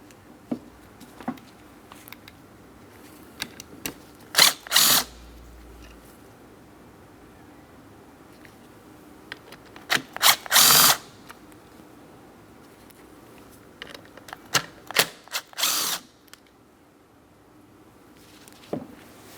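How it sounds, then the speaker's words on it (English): Three T30 Torx screws come out of a Cadillac CTS window motor, heard as three brief, sharp whirring bursts spaced about five seconds apart, with quiet handling noise in between. "We'll remove all 3 of those so we can remove the window motor from the window regulator."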